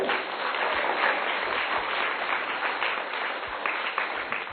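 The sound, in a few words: applause welcoming the parish vicar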